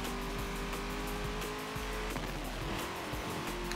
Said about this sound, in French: J'aime bien le bruit du moteur,